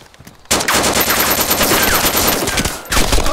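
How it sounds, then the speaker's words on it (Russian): Loud, close automatic gunfire in the survival video game DayZ, a continuous rattling burst starting abruptly after a brief quiet moment and running to the end. "Это я стреляю."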